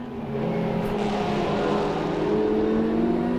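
Mercedes AMG GT4 race car engine droning steadily at high revs, a continuous harmonic whine with slowly rising pitch, fairly close and loud, with no talk over it.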